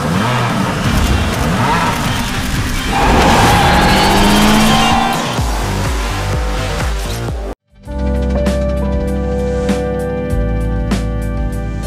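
A race car roars at high speed with tire squeals in the Asphalt 9 video game, a loud engine sound, followed after a brief cut by game music with sharp effect hits.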